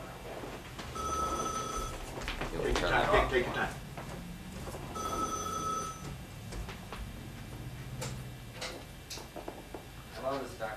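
A telephone bell rings twice in distinct bursts about four seconds apart, moderately close, with people talking around and between the rings.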